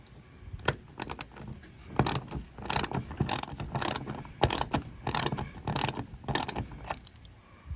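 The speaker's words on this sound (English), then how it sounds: "I'm just going to use a ratchet and remove those." A hand ratchet loosens 7/16 bolts on a garage door track, giving bursts of quick metallic clicking in irregular runs with short pauses between, close up and with no voices.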